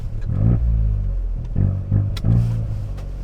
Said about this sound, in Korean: 배기음 들려주시죠